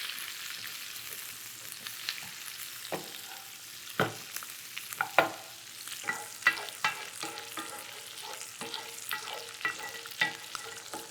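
Fajita peppers sizzle in hot grease in a pan, a soft steady crackle broken by sharper pops and spits and occasional stirring scrapes, close by.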